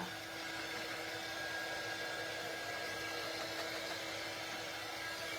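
A hair dryer runs steadily and close at constant loudness throughout, a continuous whooshing hum drying paint on a tray for a patriotic stars-and-stripes makeover. No one talks.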